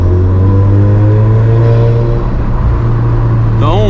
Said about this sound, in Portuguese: A volta de marcha fica bem legal, ó. Dá pra ouvir um pouco do alívio da turbina também.